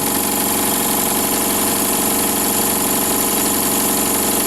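A Stuart D10 double steam engine with a water pump runs steadily, a loud, dense, continuous mechanical chatter with a rapid, even beat close to the microphone.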